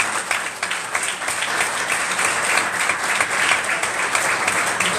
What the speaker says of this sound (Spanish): ¿Cuánto le dan un aplauso al Señor por ello?